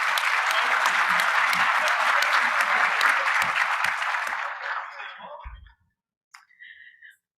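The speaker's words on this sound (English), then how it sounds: "Please join me in a round of applause for them." Sustained audience applause thanking the presenting sponsor at a corporate luncheon, a dense steady clatter for about five seconds that thins and dies away into silence, followed by a few faint stray noises.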